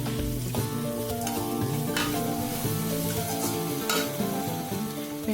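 Small onions sauté in a pan, giving a steady, close sizzle and crackle that runs throughout, with occasional stirring scrapes over a sustained tonal background.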